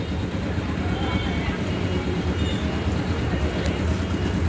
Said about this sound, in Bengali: আর এই হলো লোকাল ট্রেন।